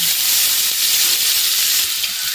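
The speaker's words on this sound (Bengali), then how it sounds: "তারপর পেঁয়াজ কুচিগুলো দিয়ে দিলাম একবার দিয়ে দিলাম রসুন কুচি আর কাঁচা লঙ্কা দিয়ে ভালো করে নানাচাড়া করে নেব" Chopped onion, garlic and green chili frying in a pan give off a steady, loud, bright sizzle and hiss, continuous and even, with no voices.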